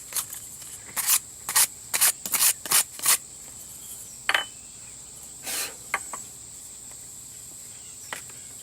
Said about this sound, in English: I go ahead and sand this down if I want to take all the paint off